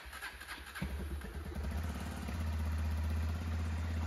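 A Honda Tornado 250 motorcycle engine cranks and catches, then settles into a loud, steady idle close by.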